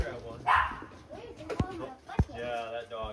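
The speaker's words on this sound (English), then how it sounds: "Yeah, that dog is making a lot of noise." A dog barks and yips a few times at moderate volume, mixed with whiny vocal sounds against a quiet room background.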